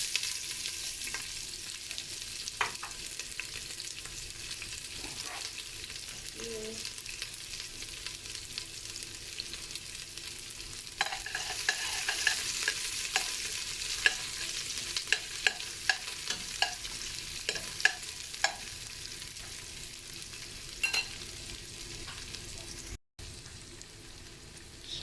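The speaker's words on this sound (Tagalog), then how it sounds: "Ayan, mainit na po ang mantika. So, pwede na po natin ilagay ang bawang at sibuyas." Garlic and onion fry in hot oil for ginisang monggo, a steady broadband sizzle running throughout with scattered clicks and scrapes of stirring, busier toward the middle and end. No one speaks.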